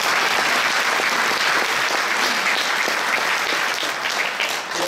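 Steady audience applause at a French ceremony, dense and sustained clapping filling the room for about five seconds before easing slightly at the end.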